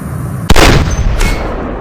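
A single loud gunshot bursts from a shooting video game, followed by a second, softer report and a lingering rumble of game ambience, with no talk.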